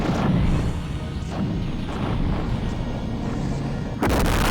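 Heavy bombs from a Demon bomber ship pound strike cannons in the space combat game Colony Wars, a loud continuous roar of blasts and crashing impacts with a fresh burst near the end, no voices.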